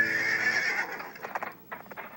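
A horse in the survival game SurvivalCraft gives one loud, drawn-out whinny that fades into a few lighter snorting bursts, alone with no talk.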